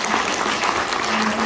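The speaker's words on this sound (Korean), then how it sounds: "우리 대표님께 다시 한번 크게 감사의 박수 부탁드립니다" Audience applause at a Korean donation-platform event honoring a company CEO, a steady dense wash of clapping throughout, fairly loud and continuous with no pause.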